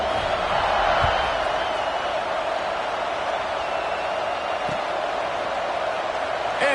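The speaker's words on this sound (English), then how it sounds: "this crowd is buzzing after that last score." Steady, dense roar of a packed college football stadium crowd during a Tennessee vs TCU game, buzzing before a kickoff after a score; the wash of noise stays loud and even throughout, with a couple of faint thumps in the mix.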